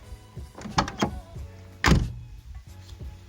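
Doors of a VW Passat B4 are worked by hand: latch clicks and handle rattles come first, then one solid thud as a door shuts. The sounds are close, with no talking.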